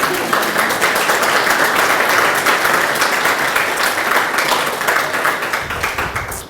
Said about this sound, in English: Maybe we should give ourselves a round of applause